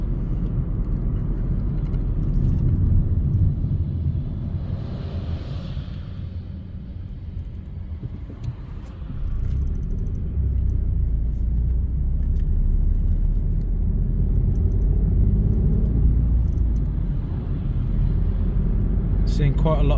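A car cruises along a road from Glencoe toward Fort William in Scotland: a steady low rumble of engine and tyres heard from inside the cabin, continuous throughout, with people talking over it.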